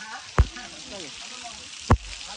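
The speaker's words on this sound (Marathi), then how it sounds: "पाऊस आले आता जोराने" Heavy rain pours down in a steady, dense hiss. Two sharp knocks cut through it, and faint voices sit underneath.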